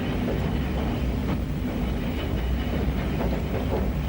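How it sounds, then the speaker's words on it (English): Steam-era British Railways train crossing the castellated Knucklas Viaduct in Wales, a steady broadband rumble of wheels and carriages with faint rhythmic clatter, continuous and fairly close throughout. "The train passes over one of the best-known features of the line, Nuckless Viaduct, with its castellated embellishments, and into Nuckless, the last station in Wales."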